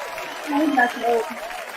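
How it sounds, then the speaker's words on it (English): A studio audience keeps clapping for arriving guests in a low, continuous patter while a voice talks clearly over the top. "Look at all the applause you're getting."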